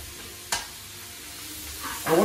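Vegetables frying in coconut oil, a steady soft sizzle with a couple of sharp scraping stirs, close up and alone.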